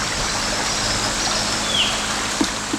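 Spring water murmuring through a vereda in the sertão, a steady broadband trickle and flow close by, running without pause and with no voices over it.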